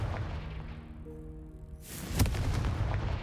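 A Confringo spell in Hogwarts Legacy: a rising whooshing charge-up followed by a sharp, booming fiery explosion that rumbles briefly before fading, heard alone without speech.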